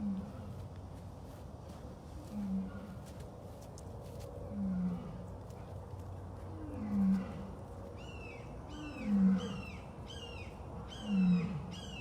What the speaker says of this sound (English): That's Nikita roaring.